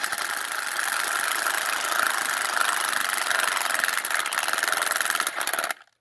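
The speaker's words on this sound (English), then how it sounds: "the hole dozer auger can just scrape the wood" A Hole Dozer auger bit is driven by a drill through wood on a metal shed door, giving a steady loud motor whine with grinding scrape that continues for several seconds, then cuts off abruptly.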